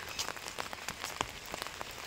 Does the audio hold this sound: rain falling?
yes